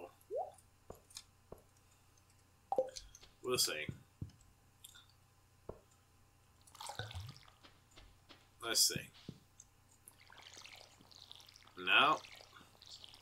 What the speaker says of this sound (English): maybe we can go down here and water the garden